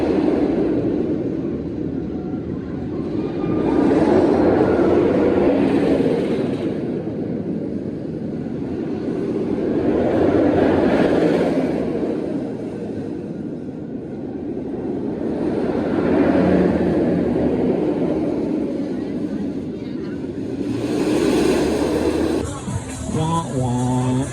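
Roller coaster roar of Riddler's Revenge, a B&M stand-up coaster at Six Flags Magic Mountain, as trains pass in repeated broad rushing swells about every six seconds, loud and continuous, with no talk.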